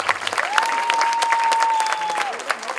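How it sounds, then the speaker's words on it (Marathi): An audience at a musical about Krishna applauds loudly and continuously. A steady whistle-like tone rises and holds over the clapping for a couple of seconds, and voices mix into the crowd. "टाळ्या थांबू नाही"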